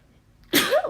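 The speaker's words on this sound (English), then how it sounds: "oh, I apologize, I had a sneeze" A single close sneeze bursts out abruptly after a near-silent moment, sharp and loud, with a brief trailing exhale.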